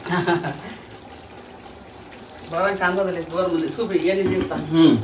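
Water pours into a pot of rice for a home-cooked Hyderabadi chicken dum biryani, a short splashing stream at the start, followed by close talking that covers the rest.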